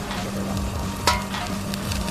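Jalapeños fry in a pan in a cat cooking game, giving a steady crackling sizzle with a sharper pop midway, close and continuous with no voices.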